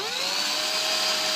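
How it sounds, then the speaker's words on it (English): A steady, high-pitched electric drill whine on its weakest setting runs continuously at an even speed, fairly close and moderately loud, with no voices. "I'm using the weakest setting on the drill, the silliest little bit"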